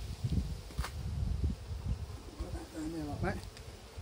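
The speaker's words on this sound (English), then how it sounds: "Look at all the bees." Honey bees swarm and buzz over an opened backyard hive during an inspection, a soft continuous drone with occasional louder passes near the microphone and a faint voice briefly in the background.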